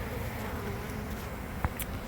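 Honeybees from a large colony being removed from a wall drone in a dense, continuous buzz, with a brief sharp knock partway through.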